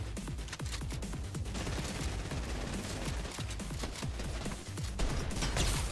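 Dense, sustained gunfire in a Fortnite match during a console FNCS tournament game, with rapid overlapping shots and bursts from multiple weapons nearby and far, continuous for the whole stretch and swelling louder near the end.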